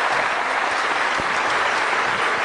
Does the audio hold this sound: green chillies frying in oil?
no